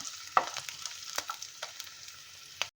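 Steady oil sizzle as ginger shallow-fries in a wok, with occasional stirring scrapes and clinks, close by and fairly loud, with no talking.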